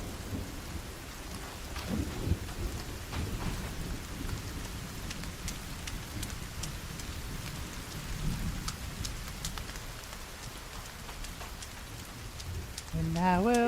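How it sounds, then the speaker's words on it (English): Steady rain falls in the forest with low thunder rumbling now and then, a continuous hiss of drops throughout, and a brief tonal sound at the very end. "Raining again."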